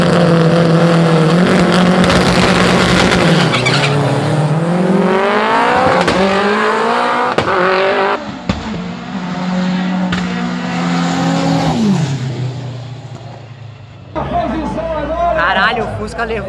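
Subaru race car, the fastest in Brazil, accelerating hard in a São Paulo drag race, its engine note climbing through gears loud and close, with a second car and excited commentary voices throughout.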